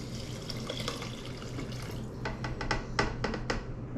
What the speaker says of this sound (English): Then gonna add my 3 cups of water.